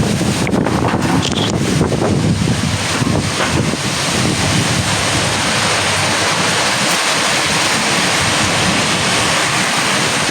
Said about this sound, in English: The wind them heavy